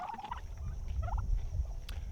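Turkeys raised for processing gobble in short, warbling bursts at a moderate distance, with a few scattered calls over a quiet, low background rumble.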